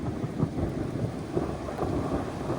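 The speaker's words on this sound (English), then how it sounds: "We have a storm on the horizon." Low rumbling thunder rolls from an approaching storm, a sustained deep grumble with soft swells and no sharp crack, heard outdoors at a distance.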